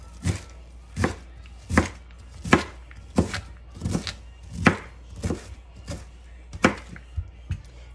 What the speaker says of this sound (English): dice it kind of fine, you don't even know it's in there really